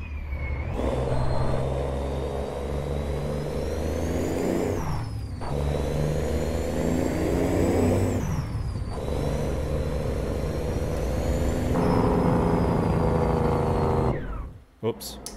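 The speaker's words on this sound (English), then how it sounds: "Let's see what the Jake Break sounds like." Freightliner XL Classic sleeper truck using its jake brake, a loud, rapid engine-brake blat repeated in three long bursts with rising whine between gear shifts, heard close from inside the cab.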